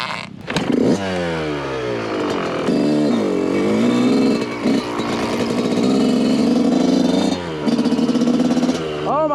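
A Yamaha YZ125 two-stroke dirt bike with an FMF slip-on exhaust revs loud and close, its pitch sweeping up and down over sustained high-revving passages, with a voice briefly audible under the engine.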